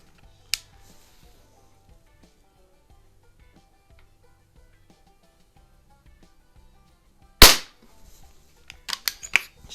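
A Xisico XSP120D dual-caliber air pistol fires two sharp, loud cracks several seconds apart in near silence, followed by a quick run of smaller clicks and snaps.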